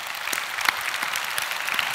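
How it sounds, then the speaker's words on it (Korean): A church congregation applauding during a Korean sermon: dense, even clapping from many hands that fills the hall steadily for a couple of seconds, with no voices over it. "우리 주님께 박수합시다."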